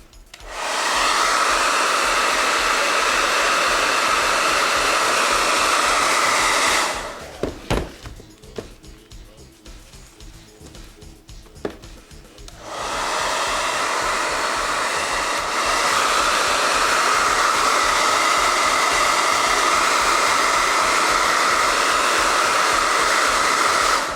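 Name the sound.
hair dryer drying rinsed bearings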